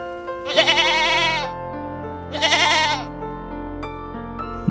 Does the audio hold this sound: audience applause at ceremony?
no